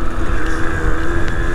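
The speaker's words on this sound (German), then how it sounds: "Mal sehen, wie sich das Moped dann verhält, wenn man etwas schneller fährt." Simson Enduro moped engine running while riding, a steady, close, buzzing drone mixed with rushing wind noise, with no talking.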